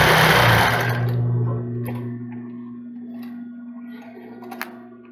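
A straight-stitch sewing machine runs a short backstitch on a double-strap thong, its steady motor hum loud at first, then easing off and fading into quiet handling noises.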